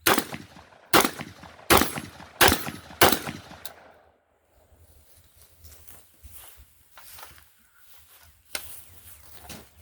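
Five sharp handgun shots ring out in quick succession at an outdoor shooting range, loud and close, followed by quieter shuffling and faint background noise with one more distant report near the end.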